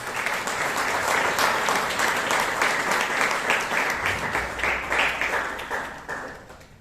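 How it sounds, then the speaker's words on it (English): A Toastmasters meeting audience in Bangalore gives a full round of applause for the guest and judges, steady and thick before tapering off at the end. "Give them a big round of applause."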